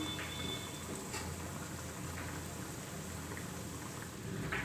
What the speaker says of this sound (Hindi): अब इनको गोल्डन होने तक फ्राई करेंगे।